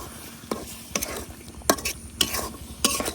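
Dried chepa shutki fish and jackfruit seeds stirred and sautéed in a pan: a low sizzle under five or six sharp scraping strokes of a spatula, spaced about half a second apart, close and fairly loud.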